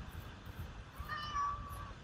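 A single drawn-out cat meow sounds faintly over a low rumbling background, with no talking during it.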